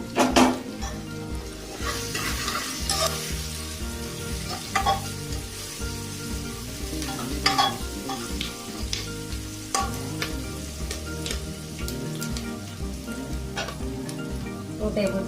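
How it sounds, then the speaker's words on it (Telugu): Coriander, curry leaves and mint stirred into hot oil for a goat leg paya curry, sizzling and frying steadily throughout with repeated scraping stir strokes and clinks of the spoon against the pot. "కొత్తిమీర, కరివేపాకు, పుదీనా వేసి కలుపుకోవాలి. ఆయిల్ వేసి కలపాలి."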